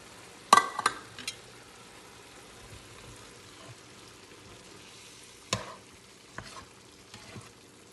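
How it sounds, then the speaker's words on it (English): A spatula stirs Sloppy Joe sauce into cooked meat in a pan: a few scraping, clinking strokes near the start and again later, with soft frying in between. The sounds are fairly quiet, with no talk. "you take your spatula and stir the sauce around."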